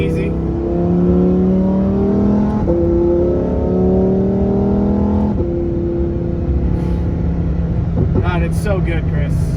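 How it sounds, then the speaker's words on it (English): A 2019 Lamborghini Huracan Performante drives on a wet road, its engine note rising and falling in steady harmonic sweeps as it accelerates, loud and close from inside the cabin with some talking layered over it. "But he said, "Hey, it's a Lamborghini, drive it." So we're gonna do that."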